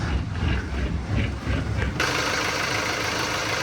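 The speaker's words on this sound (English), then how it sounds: "You can hear the engine, sounds like a dream." A boat engine starts up and runs steadily at a low, even idle, filling the background with a constant mechanical drone.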